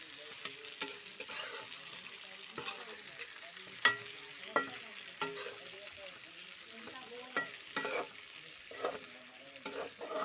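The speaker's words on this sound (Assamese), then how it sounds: "তিতা কেৰেলা আৰু মছলা এইবোৰ ভালকৈ এতিয়া মিহলাই দিলোঁ।" Bitter gourd frying with spices in a pan while being stirred, with a soft steady sizzle and intermittent scraping knocks of the spoon, fairly quiet.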